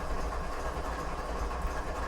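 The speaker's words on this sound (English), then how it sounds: "We're just using the train brakes here." A train slowing under its brakes in Train Simulator 2017 on a Canadian mountain pass, with a steady low rumble and broadband rolling noise that runs continuously, fairly faint.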